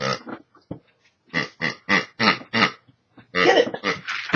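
A dog's squeaky toy pig gives a series of short, loud, grunting squeaks in quick bursts, with brief gaps between them, heard up close.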